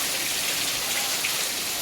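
Steady rain driven by wind on a farm, a dense even hiss of drops pattering on surfaces throughout, with no voices.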